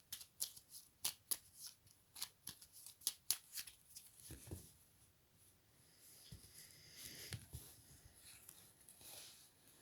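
Tarot cards are shuffled in quick riffling bursts, then drawn and laid down with soft slides and taps, close and quiet with no talk.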